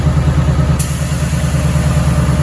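Ford Mustang four-cylinder engine running at idle, a close, loud, steady low pulsing throb with regular rhythmic beats and one brief sharp click near the start.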